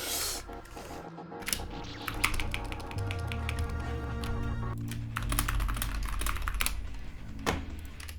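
Computer keyboard typing during a casual live stream: a rapid, irregular run of light clicks close to the mic, sitting over steady background music throughout.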